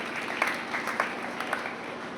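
An audience at a career guidance program in Tankaria applauds to welcome a guest. The clapping is dense and steady, with a few sharper claps standing out.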